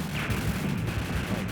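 Bomb blast in the Raiden shoot-'em-up arcade game, a dense rumbling explosion with crackling debris that fills the whole moment at steady loudness, layered over continuous game noise.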